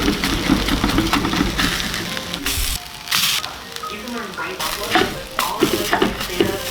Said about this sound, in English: Once the pan was warm with some olive oil inside of it, I got the potato mixture into the pan